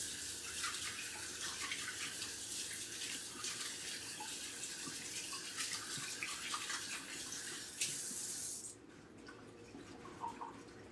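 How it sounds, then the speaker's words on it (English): Running tap water pours steadily into a sink while hands are washed after coating chicken tenders with oil, a loud continuous splash that cuts to a quieter trickle with a few drips near the end. "Then wash your hands."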